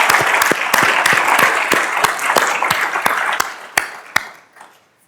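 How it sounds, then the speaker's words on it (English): Audience applause for event sponsors at WordCamp Sydney 2024, with dense clapping and sharp individual claps sustained for about four seconds before tapering off to near silence. "Let's give a round of applause to all of those sponsors."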